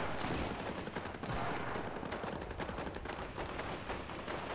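Gunfire in a Fortnite trios match: continuous dense volleys of rapid shots from several weapons, loud and close, crackling without pause, with no talking.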